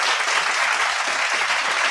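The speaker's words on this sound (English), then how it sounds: "please do give a round of applause for our distinguished speakers and also our moderator." Audience applause for panel speakers and a moderator at a G20 TechSprint CBDC launch event, a dense, even clapping that fills the room steadily from start to finish without talk.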